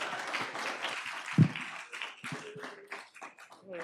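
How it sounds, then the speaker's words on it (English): Scattered clapping at a school board meeting for a school resource officer, uneven and fairly thin, with a few louder claps and voices murmuring in between. "You can clap for him"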